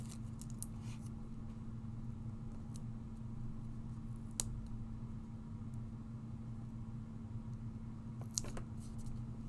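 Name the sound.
scissors cutting through coated material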